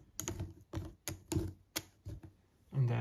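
Cardboard clue tokens for a board game being shuffled on a table, heard as a series of separate close clacks and scrapes with short gaps between them, followed by a final longer rustle.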